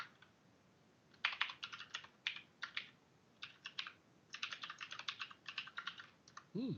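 Bursts of close, clicky typing on a computer keyboard while writing code, uneven clusters of rapid keystrokes separated by short pauses, with a brief voice at the very end.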